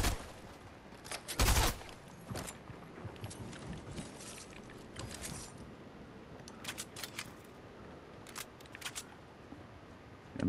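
Shotgun fire in the Fortnite video game, one loud blast early followed by several fainter, scattered shots and clicks over a quiet game background.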